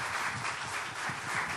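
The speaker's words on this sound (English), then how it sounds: "I appeal to all of you, a round of applause for a very good session." An audience at an education conference session applauds, producing a continuous wash of many hands clapping at a steady, even loudness.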